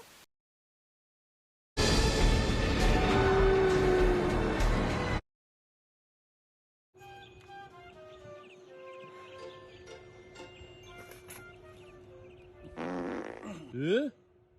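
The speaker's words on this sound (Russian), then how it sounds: "Ты чё, пукнул, что ли?" A loud, sustained flatulent burst lasting a few seconds, followed by a pause and then quieter rumbling with faint chirpy squeaks in a comedic sketch.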